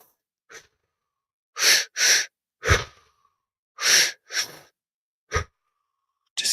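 Deep, slow breaths during a guided breathing meditation, a series of loud inhales and exhales in an uneven rhythm with short pauses between them, close up and with no talking.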